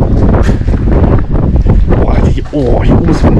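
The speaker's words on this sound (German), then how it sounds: "Oh, hier oben ist Windig." Strong, continuous wind roars across the microphone at the top of an abandoned old heating power plant, loud and buffeting throughout, with people talking beneath the gusts.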